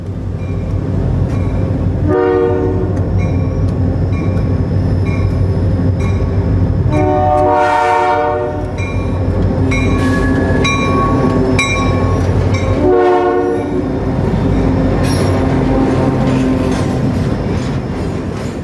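A train rolls steadily down a city street, its wheels rumbling loud and continuous while the horn sounds in several long blasts and shorter toots spread through the passage.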